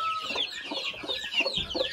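Brahma chickens clucking on a farm, several birds overlapping in a steady, close, busy chatter of short clucks and squawks.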